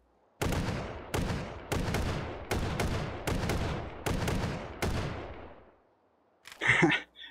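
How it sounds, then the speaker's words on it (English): Shotgun blasts in Hot Dogs, Horseshoes & Hand Grenades VR: seven loud, evenly spaced reports about half a second apart, each with a decaying tail, then a short burst of mechanical clatter after a pause. "That's the shotgun right there."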